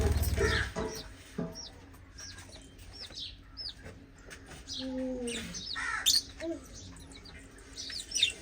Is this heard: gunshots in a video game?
no